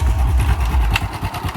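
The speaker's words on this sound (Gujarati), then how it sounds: "કોકનું બાઈક આવે છે" A motorbike engine runs steadily on a road, a continuous low throbbing rumble that stays fairly close and loud for the whole stretch, with no voices.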